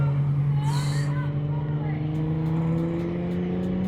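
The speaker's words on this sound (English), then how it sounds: "GTR coming in as well" A Nissan GT-R drives in among exotic cars at a busy car gathering: a steady, loud engine drone with a strong low hum holds throughout, with crowd babble and chatter underneath.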